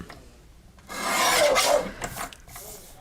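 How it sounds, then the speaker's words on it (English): Craft card is trimmed by hand, with a short close scraping stroke lasting about a second followed by a couple of briefer, fainter rasps against a quiet background. "I'm going to carefully trim it on all 4 sides to square it up."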